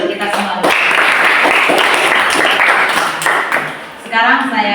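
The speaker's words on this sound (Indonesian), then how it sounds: "Sekali lagi tepuk tangan untuk kita semua." A class of students in a teacher-training lesson claps together, a dense and fairly loud burst of applause that fills the room, heard close by with voices mixed in.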